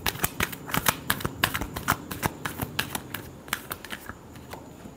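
Tarot cards riffle and shuffle in a quick, irregular run of crisp papery clicks and flutters, close and fairly quiet, with no voice.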